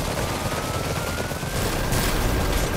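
Gunfire from units in the diesel-punk strategy game Iron Harvest, a dense, continuous roar of shots and rumbling blasts with no pauses, loud throughout.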